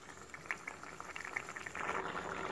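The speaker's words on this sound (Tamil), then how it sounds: "சாம்பார் நல்லா கொதிச்சிட்ருக்கு." A pot of sambar bubbles and simmers close by, small irregular pops and gurgles that thicken into a steadier boil toward the end.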